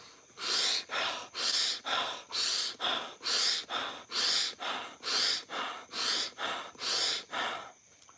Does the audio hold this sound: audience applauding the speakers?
no